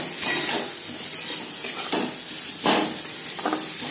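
Green mango pieces frying in a pan with salt and turmeric, a constant sizzle close by with repeated scraping strokes of a spatula stirring at irregular intervals, no voices.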